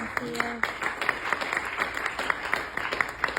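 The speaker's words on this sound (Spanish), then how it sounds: "denle un aplauso al Señor" Church congregation applauding during a Spanish-language sermon, a low, steady patter of claps with a preacher's voice continuing over it.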